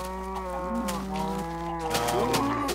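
Cows mooing in a farming video game, long drawn-out lowing calls overlapping one another over a steady background hum, loud and close.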